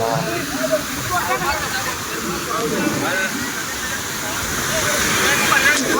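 Heavy, muddy floodwater surges past near a temple, giving a loud, continuous hissing rush with rougher swells, while people talk intermittently over the roar.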